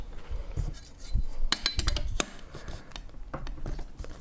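An AK-pattern rifle, a Century Arms VSKA Trooper, being reassembled as the recoil spring is inserted: quiet metallic clicks, taps and small clinks in scattered bursts, close up.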